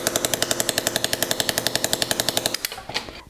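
A flex shaft hammer handpiece running on pedal control, giving a rapid, even train of sharp mechanical taps, close and fairly loud, that slows and trails off near the end.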